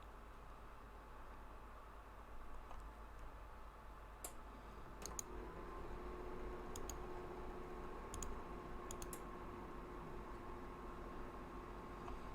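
Keys on a computer keyboard with a faulty M key clicking in small clusters of sharp, quiet taps against a steady background hiss, spaced irregularly over several seconds.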